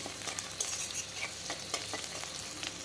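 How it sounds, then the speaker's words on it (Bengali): Bay leaf and a little onion fry in a pan as the base for a hing mutton dish. A soft, steady sizzle runs throughout, with light stirring clicks and scrapes, fairly quiet and with no talking. "তেজপাতা আর সামান্য একটু পেঁয়াজ দিয়ে দিলাম। দিয়ে ভালোভাবে ভেজে নেব।"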